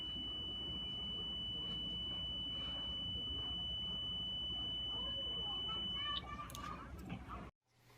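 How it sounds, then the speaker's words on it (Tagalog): A homemade cell phone detector's buzzer holds one steady, high, continuous beep for about six seconds and then cuts off. A noisy room and background voices carry on underneath it. "creates the beep sound to know that the mobile phone is around the area of coverage"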